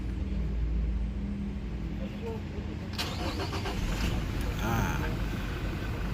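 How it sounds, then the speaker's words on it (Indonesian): The 2GD-FTV 2.4 diesel in a 2020 Toyota Kijang Innova 2.4 G automatic TRD Sportivo cranks and fires with a sharp burst about halfway through, then settles into a low, steady idle rumble heard nearby. "Suaranya khas banget ya, mesin 2GD FTV-nya Innova ini."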